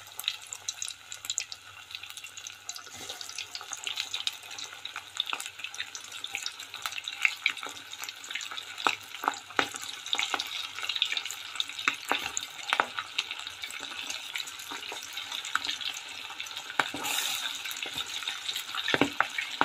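Chicken feet frying in hot oil, a steady crackling sizzle with frequent sharp pops and spatters, moderately close and fairly quiet, with no talking.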